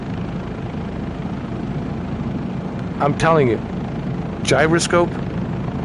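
Bell 407 helicopter engine in Microsoft Flight Simulator 2024, a steady low rotor and turbine drone running throughout, with a voice talking over it twice near the end.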